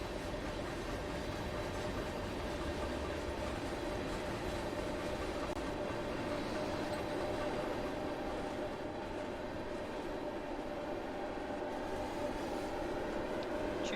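Steady, continuous rumble of a large steam locomotive running in Train Simulator 2020, a dense unbroken rolling drone that fills the whole stretch without speech.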